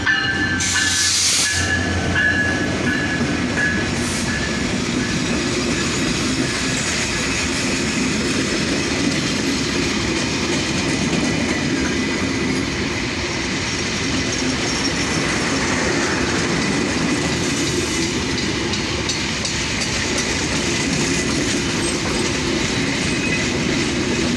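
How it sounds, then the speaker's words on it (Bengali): Bangladesh Railway locomotive 6618, a short-hood engine, hauls the Shimanta Express through Birampur, a loud, continuous roar of passing carriages with steady clickety-clack from the wheels and some squealing and hiss, close by throughout. "আর ফোকাস করি আমরা সীমান্ত লোকোমোটিভ আছে 6618"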